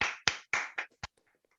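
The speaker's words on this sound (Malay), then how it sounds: "tepukan kepada Tony" A small group at a communication training course claps for a participant, about five sharp, separated claps in an irregular rhythm, close and fairly quiet, tapering off into a few faint scattered taps.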